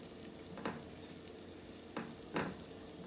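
Cube steak browning in olive oil in a pan, a steady close sizzle with a few sharper scraping bursts as the meat is moved or turned.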